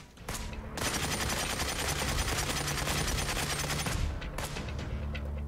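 Sustained volley of gunfire in the video game Cepheus Protocol, a dense, loud, continuous rattle of rapid shots lasting several seconds before easing into a few scattered reports.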